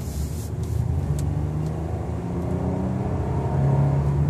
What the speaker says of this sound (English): The engine is still a little loud.